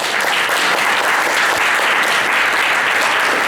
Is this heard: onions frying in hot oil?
no